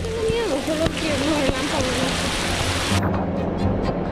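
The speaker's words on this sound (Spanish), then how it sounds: "También tenemos una tormenta eléctrica cayendo encima de nosotros." Heavy rain pours steadily during a thunderstorm on the Jalisco coast near Puerto Vallarta, with thunder rumbling low beneath the downpour and voices speaking over the hiss for much of the time.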